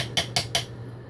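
Three sharp, short pops or knocks in quick succession at a steady rhythm as a bathroom tile pops loose from its mortar, then a quiet hum settles in.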